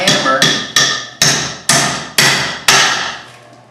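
Hammer striking tempered glass, seven sharp, loud, evenly spaced blows that each ring out and fade before the next, with no break in the glass.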